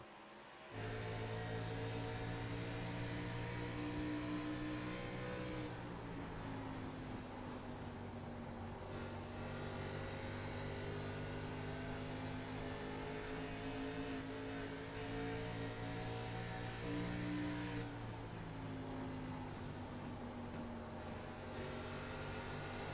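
Onboard race car engine lapping Rockingham Speedway, a loud continuous drone that rises and falls in pitch as the driver lifts and reapplies throttle through the corners, steady and close with no talk.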